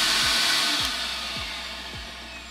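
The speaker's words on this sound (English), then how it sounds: "turn the vacuum on," A shop vacuum hooked to a Harbor Freight sandblast cabinet runs with a loud, steady broadband roar that eases slightly, punctuated by a few low thumps.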